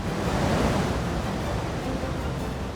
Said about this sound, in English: You will see a rainbow of water sand flying through the air straight to the location where you want it to be.